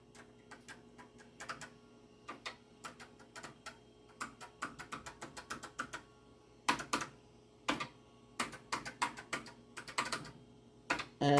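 Keys pressed on an NEC PC-8801mkIIFR computer keyboard with a finicky feel, giving a steady run of close, sharp clicks in irregular bursts, some keys struck repeatedly, with no talking.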